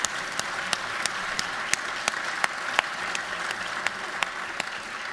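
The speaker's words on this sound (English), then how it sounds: "That deserves a round of applause." Audience in a Georgia state House chamber applauding, dense sustained clapping with a few sharper individual claps standing out, fairly close and with no speech over it.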